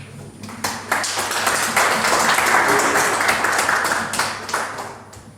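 A room of guests at a launch event applauds, the clapping swelling from scattered claps into a dense, steady round before tapering off.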